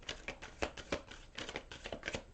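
Angel cards are shuffled by hand nearby, a quiet run of flicking, riffling snaps and papery slides in uneven bursts, with no talk.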